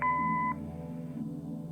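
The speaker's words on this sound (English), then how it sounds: "Leave a message after the beep." Answering machine beep in the video game Kathy Rain, a single clean electronic tone lasting about half a second, followed by a quiet room hum, no talking.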